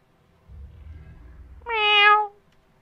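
A cat meows once, clear and fairly loud, rising over low rumbling ambience in the video game Murdered: Soul Suspect.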